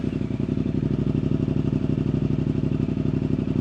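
A Suzuki GSX-8R motorcycle, already warmed up, idles loudly with a steady, throbbing exhaust pulse, the engine note held continuously without any pause or talk over it.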